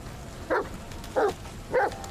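A dog barks three times in short, evenly spaced bursts about half a second apart, fairly close and clear over a quiet background with no talking.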